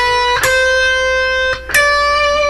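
A run of sustained electric guitar notes, each picked note ringing bright and clean with overtones as the pitch steps along, played alone without talk.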